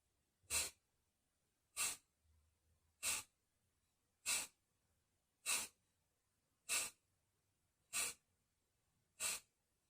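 Pranayama breathing exercise with forceful breaths: eight sharp, evenly spaced bursts of air in a steady rhythm, close and clear against near silence, with no talking.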